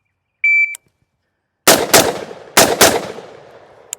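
A POF Revolution Piston rifle in .308 Win fires four rapid shots in two quick pairs, loud and sharp with ringing echoes, preceded by a short electronic timer beep.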